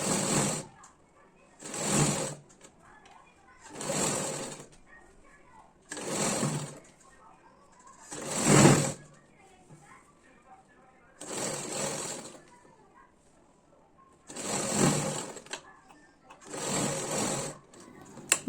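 A sewing machine stitches a blouse sleeve onto the bodice in eight short bursts of whirring, each a second or two long, separated by quiet pauses and brief speech.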